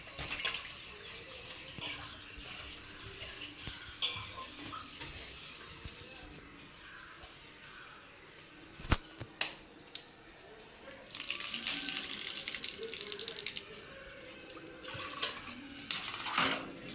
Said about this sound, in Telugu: పప్పు కడిగి తెచ్చుకుంటున్నా.